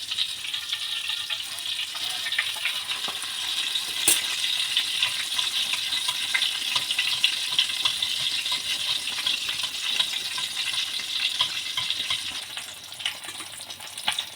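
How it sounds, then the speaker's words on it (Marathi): Masala-coated fish frying in a pan over low gas, a continuous crackling sizzle with small popping spatters throughout, fairly close and steady. "मस्तपैकी असं दोघं साईडने क्रिस्पी क्रिस्पी फ्राय होऊ द्यायचं"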